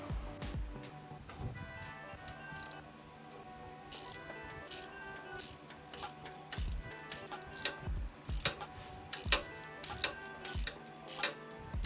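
Ratchet backing a bolt out of a motorcycle shifter spline, rapid clicking strokes in repeated bursts with small metallic clinks, close up and otherwise quiet.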